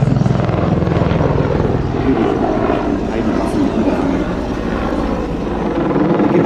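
Mi-24 Hind attack helicopter flying at the ILA Berlin air show, a loud continuous rotor thump and engine roar close by that holds steady throughout.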